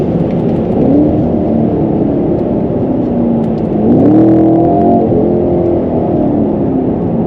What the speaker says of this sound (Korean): 살짝 밟아봤는데 마력만큼 잘 나갑니다